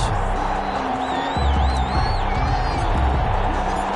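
Stadium crowd cheering in the Madden 21 football video game before a Cincinnati Bengals versus Detroit Lions matchup, a steady roar that swells louder partway through, with a whistle-like tone and low music underneath.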